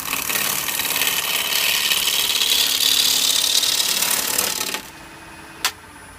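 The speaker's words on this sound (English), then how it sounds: "Keep a gouge into your side, and it really is a nice way to cut." A gouge cuts a natural edge wood bowl spinning on a lathe, a loud steady hissing, shearing drone over the motor hum that stops abruptly, followed by a quieter hum and one brief tap.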